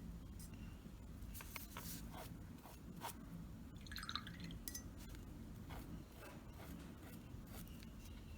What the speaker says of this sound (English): Just wash off my brushes again.